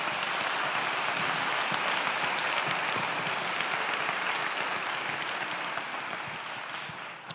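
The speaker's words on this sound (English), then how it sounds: "Let's give this lady a nice big round of applause, shall we?" An audience gives a steady round of applause that holds evenly for several seconds before easing off slightly near the end.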